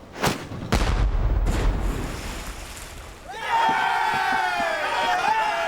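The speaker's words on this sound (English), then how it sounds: "Starboard bow chaser! Fire!" A sailing warship's starboard bow chaser cannon at sea fires twice in heavy booming shots, followed by a rumbling roll, then tonal shouting and crowd noise over water.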